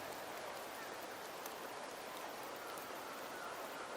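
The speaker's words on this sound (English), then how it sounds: "The rains in Septimont never seem eager to leave this season." Steady rain falls in Wuthering Waves, a dense, even hiss that runs unbroken throughout.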